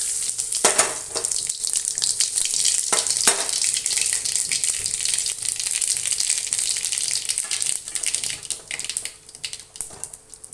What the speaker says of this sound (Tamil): கடுகு உளுத்தம் பருப்பு போட்டு பெருங்காயம் போட்டுக்கிறேன்.